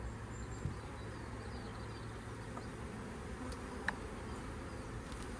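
A five-year-old honey bee colony being relocated gives off a steady, low buzzing hum throughout, with a few brief louder passes of single bees, and no voices.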